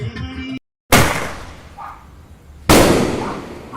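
A homemade sky shot firework bursting with two loud, sharp cracks about two seconds apart, each trailing off into a hissing crackle, close by and outdoors.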